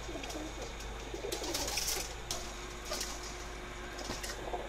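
Pakistani pigeons cooing in a loft, soft repeated coos over a steady background hum with a few faint knocks, fairly distant and with no talking.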